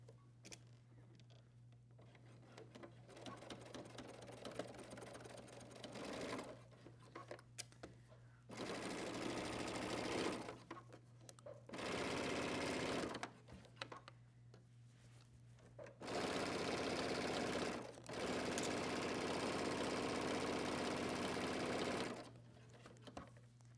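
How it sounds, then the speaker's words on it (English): A sewing machine runs along a hoodie seam in several loud sustained bursts of rapid whirring stitching, separated by quieter pauses with light handling and some talk. "now we are ready to sew all the way around"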